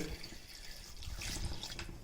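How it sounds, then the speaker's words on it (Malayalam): Water poured into a mixer grinder jar, a short steady splashing trickle that runs close and moderately loud for about two seconds, with no talk. "മിക്സിയുടെ ജാറിൽ കുറച്ച് വെള്ളം ഒഴിച്ചിട്ട്"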